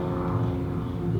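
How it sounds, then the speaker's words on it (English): A big jet airliner out of LAX passes overhead, a steady low broadband roar holding level throughout, fairly loud and continuous with no talk over it. "That's LAX, big jet"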